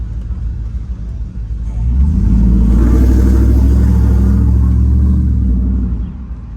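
Stock Chevy 5.3-liter V8 truck engine fitted with a Borla XR1 exhaust, revving up from a deep idle into a loud, sustained low rumble for several seconds before easing back down, close by with no talking.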